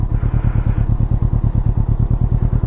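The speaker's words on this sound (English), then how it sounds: "Listen to that lovely twin exhaust note." A Can-Am Ryker 600 runs with its bodywork panels off, its twin exhaust giving a steady, close, low pulsing thrum with an even rhythm.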